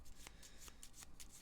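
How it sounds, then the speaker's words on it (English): Cards for the Battlestar Galactica board game being shuffled by hand, a series of quick close riffling bursts in an uneven rhythm, very quiet with no talk. "Leadership cards shuffled and piled into the leadership card area."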